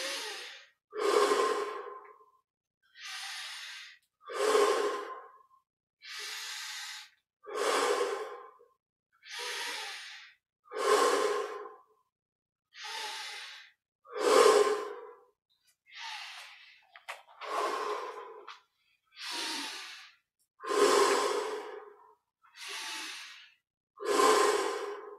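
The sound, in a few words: deep breathing during guided meditation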